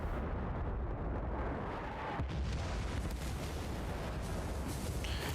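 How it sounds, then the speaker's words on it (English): Mortar shells burst in a continuous, heavy barrage of rumbling explosions in a Port Valdez battle game, dense and loud throughout with no voices. "they're laying mortars on A"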